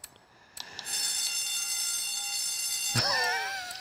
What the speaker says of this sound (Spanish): Silbato de escuela.